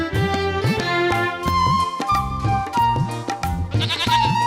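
A goat bleats repeatedly in short wavering cries, loud and close, with other bleats overlapping against a busy background.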